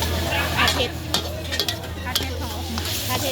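Spicy Thai-style seafood phat phet stir-fried in a pan at a home gathering, with a steady sizzle, scraping stirs and a low hum filling the background.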